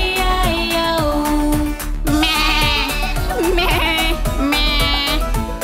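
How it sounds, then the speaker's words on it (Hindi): Sheep bleats sung within a Hindi nursery rhyme version of Old MacDonald's farm, set over a bouncy music track with steady beat; bleat-like sung phrases come in two bursts. "उसके फॉर्म में भेड़ थी E-I-O।"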